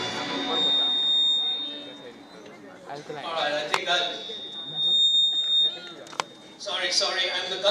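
A steady high electronic beep from the stage lighting at a regional quiz competition venue sounds repeatedly through the hall, with people chattering and a presenter talking over it.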